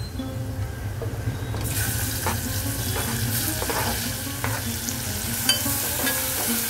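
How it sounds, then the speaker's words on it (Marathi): Onion sautés in oil with browned garlic and asafoetida, a steady sizzle with regular scraping stirs that grows brighter and louder partway through, close by and without talk. "कांदा चांगला परतून घेऊया आपण."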